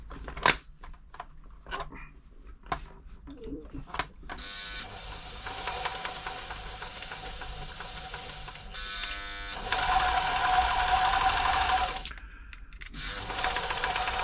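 A seized New Home 641 sewing machine runs in uneven bursts, opening with scattered knocks and clicks, then a continuous buzzing whir that pauses briefly and returns louder, catching on stiff spots, close and without talk.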